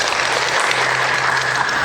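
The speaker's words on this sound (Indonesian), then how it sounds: "Tepuk tangan untuk pemain 2" Audience clapping for the second participant at a simulation session in Tegalsari: a dense, steady patter of applause that holds at an even level through the short stretch, with no voices.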